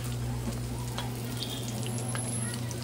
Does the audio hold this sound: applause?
no